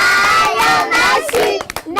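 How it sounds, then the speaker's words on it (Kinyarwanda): Children in a TV studio clap together for about two seconds, mixed with excited cheering and shouts. The applause thins out into scattered claps near the end. "Noneho twiha amashyi cyane."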